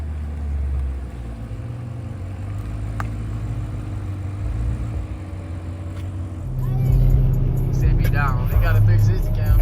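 An Audi S7 with a twin-turbo V8 rumbles nearby at a TX2K26 roll-racing event, idling low and steady before swelling louder, with people talking over it.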